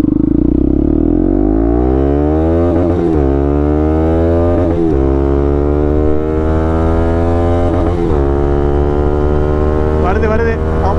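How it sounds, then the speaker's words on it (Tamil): A fully modified Bajaj NS200 motorcycle's exhaust drones loud and steady while riding, its note rising through each gear and dropping sharply at quick shifts, with no talk over it. "பியூரான எக்ஸாஸ்ட் நோட்டை என்ஜாய் பண்ணுங்கள்."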